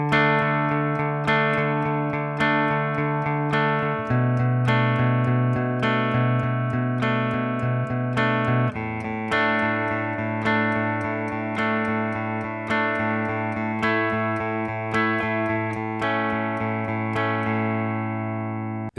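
A distorted electric guitar plays the main riff of a song, chugging steady chords that shift pitch every few seconds, loud and with no talking.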